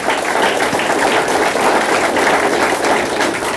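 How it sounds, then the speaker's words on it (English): An audience applauds at a political rally, a steady, dense wash of clapping that holds loud and even throughout with no voices over it. "I'd clap for Oklahoma if I were you"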